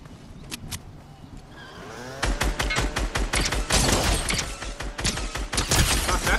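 Gunfire in Fortnite, a quiet start with a few isolated shots, then dense rapid bursts and steady automatic fire that keep going loud and close to the end.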